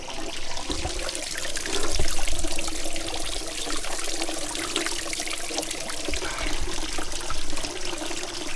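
Fresh water flowing at the Ykua Bolaños spring in Caazapá, a continuous close splashing and trickling stream with bright hiss, steady with slight swells and no talking.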